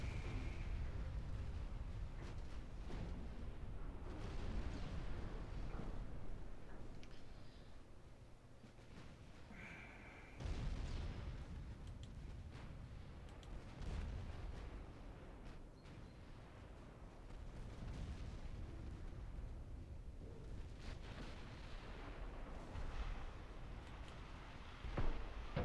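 Destroyer naval gunfire in the Ultimate Admiral Dreadnoughts warship game: a continuous rumbling barrage of heavy booms with a sharper blast near the midpoint and another at the end, steady and fairly loud with no talk.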